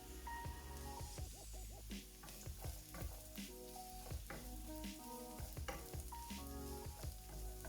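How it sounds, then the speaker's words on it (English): Chopped onions and garlic hit hot oil for a vegan coconut chickpea curry, crackling and sizzling steadily with occasional stirring scrapes and pops, close up and without talk. "Now that our oil is nice and hot, we can add our onions and our garlic."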